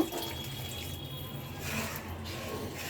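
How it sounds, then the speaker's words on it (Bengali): A little water poured from a container into spice masala cooking in a pan, a steady close trickle and splash running for about three seconds with a faint background hum. "মশলাটা কষানোর জন্য এখানে আমি অল্প করে পানি দিয়ে দিব।"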